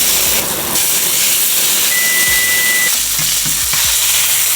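A steak's fat cap sears in a hot pan with a steady, loud broadband sizzle and hiss that carries through the whole stretch, with small crackles and spits, no voices.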